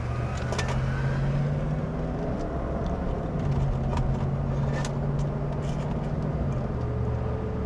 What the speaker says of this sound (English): Get a great sound from the V8.